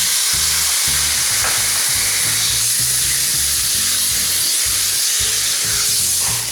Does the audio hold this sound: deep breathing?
no